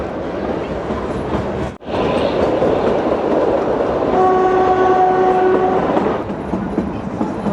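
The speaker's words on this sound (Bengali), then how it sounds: "এভাবেই ঘুরে ঘুরে পাহাড়ের ওপরে এই টয় ট্রেন ওঠে।" Shimla toy train climbing a winding hill line, its carriages rumbling and clattering loudly and steadily throughout, with a sustained horn blast in the middle.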